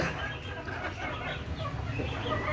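Free-range desi chickens feed on grain scattered outdoors just after rain, clucking softly and repeatedly at close range over a steady background rumble.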